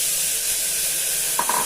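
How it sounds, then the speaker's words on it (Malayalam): Ground arrowroot tuber paste hitting hot coconut oil in a cooker gives a loud, steady sizzling hiss, close by, with a couple of brief utensil knocks near the end and no talk. "മിക്സിയിൽ അടിച്ച് വെച്ചേക്കുന്ന ആട്ടുകൾ കിഴങ്ങ് നമുക്കിതിലേക്കൊന്ന് ഇട്ട് കൊടുക്കാം."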